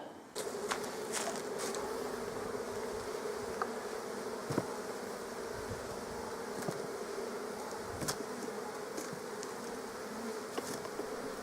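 Steady, dense buzzing of many honeybees close by at a hive, with occasional louder passes of individual bees near the listener.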